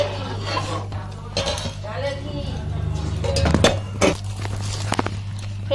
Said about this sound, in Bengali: এখানে একটা কড়া বসিয়ে